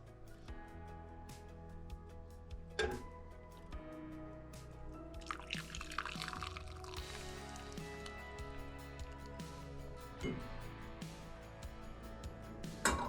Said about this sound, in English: We will now pour this into the strainer.